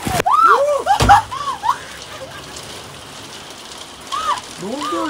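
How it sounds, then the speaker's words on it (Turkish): Hail patters steadily on a surface close by at a beach campsite during a storm, with a couple of sharp impacts and voices calling out over it. "Dolu sesi geldi."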